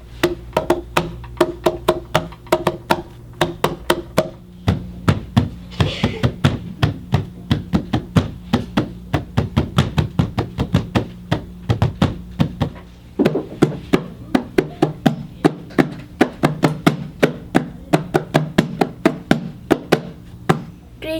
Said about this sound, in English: I can make anything into a drum.